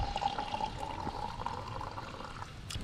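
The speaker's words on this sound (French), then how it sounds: "il faut que je remplisse ma gourde" A water bottle fills at a mountain spring, a steady trickle and gurgle of flowing water running close by with a faint rising tone as it fills, no voices.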